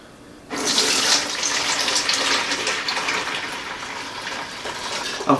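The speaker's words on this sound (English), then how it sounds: "Run it in stages through this sieve, fine mesh sieve I got here." Beer wort for a maple bacon brown ale pours steadily through a fine mesh sieve, a continuous close splashing rush of liquid that starts abruptly and runs on without a break.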